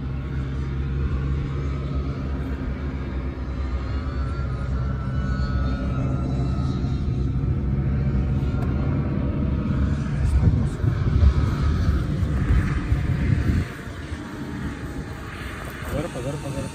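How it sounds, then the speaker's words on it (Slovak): A tractor passes unseen behind bushes, a steady low engine rumble and drone that swells near the middle, then drops suddenly, with faint talk in the background. "Traktor, to som počul."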